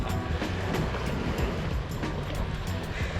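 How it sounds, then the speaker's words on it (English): Steady, broadband rush of ocean surf at the shore fills the whole stretch, with soft surges and hiss of breaking water, fairly close and continuous, with no voices. "we just made it down here to the ocean"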